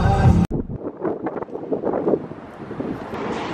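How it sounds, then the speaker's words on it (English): Cold wind buffets the microphone in rough, rumbling gusts, loud and close, after a brief burst of other noise at the start. "It's all windy and cold."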